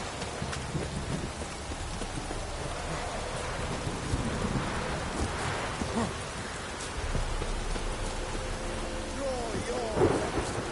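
Steady heavy rain pours down under rolling thunder, with deep rumbles building and a sharper crack near the end, loud and continuous with no voices.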